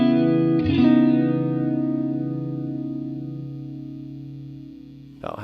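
An electric guitar chord rings through a Swindler Effects Gulf chorus/vibrato pedal with its delay knob all the way down, sustaining and slowly fading before a fresh strum lands at the end.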